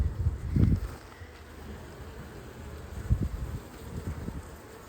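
Honey bees swarm around stacked beehive boxes with a deep brood box, medium supers and a queen excluder, some hanging off the side; a faint, steady buzz sits under a few soft low thumps of handling.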